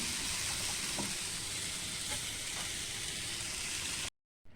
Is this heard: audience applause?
no